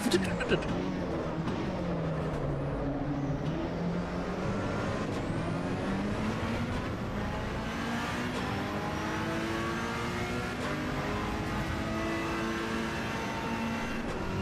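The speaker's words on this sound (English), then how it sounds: "when you let off the accelerator. Is that the wastegate?" Race car engine in the Assetto Corsa Evo racing game, heard as a steady loud drone with rising and falling pitch sweeps as the throttle is lifted, letting the wastegate release, with possible talk over it.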